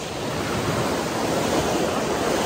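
Ocean surf at Manuel Antonio Beach, Costa Rica, a steady, loud wash of breaking waves close by, with no pauses and no one talking.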